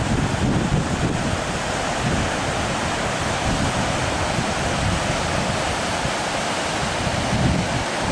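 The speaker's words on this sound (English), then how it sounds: "Beautiful waterfall." Waterfall on the Feather River in California beside a mountain highway, a continuous broadband roar of rushing water mixed with wind buffeting the microphone, steady and loud for the whole stretch with no voices.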